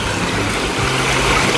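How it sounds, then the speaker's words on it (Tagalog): Water from a mountain stream that keeps flowing through the dry season runs steadily up close, a continuous broadband rush with no talk over it. "mayroong batis. Batis na hindi natutuyo kahit ilang buwan ng tag-init."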